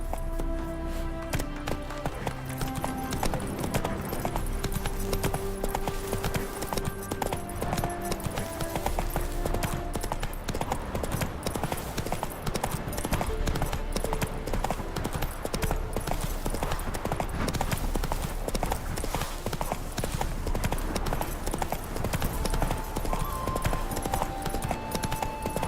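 Roach the horse's hooves clip-clop steadily at a quick gait in The Witcher 3, loud and continuous, with game music layered underneath.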